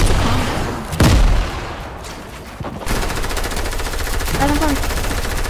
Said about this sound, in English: There's so much shooting happening.